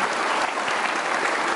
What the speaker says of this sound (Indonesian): Ya, kita kasih tepuk tangan dong Kakak Edison.